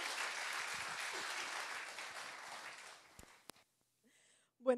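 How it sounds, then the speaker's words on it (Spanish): Church congregation applauding warmly to welcome a speaker, a steady mass of clapping at moderate distance that fades out, followed by a couple of taps and a brief voice. "Vamos a recibirla con un cariñoso aplauso."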